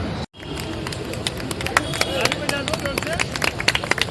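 A crowd claps steadily at a public event in India marking a mural of Tokyo Paralympic athletes painted on a metro pillar. The claps are dense and continuous under a noisy outdoor murmur, with a short dropout near the start.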